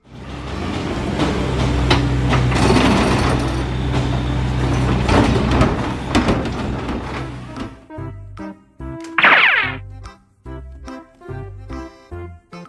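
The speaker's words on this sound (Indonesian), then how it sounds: "Mobil truk sampah." A garbage truck sound effect: several seconds of loud mechanical clanking, rumbling and hissing, followed by bouncy music with a short whooshing accent.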